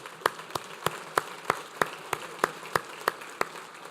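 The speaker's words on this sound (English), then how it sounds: "how about a round of applause for Salisbury University and this amazing catering team?" About a dozen single, evenly spaced claps ring out at a breakfast event, crisp and fairly close, with a faint murmur of room noise underneath rather than a full crowd ovation.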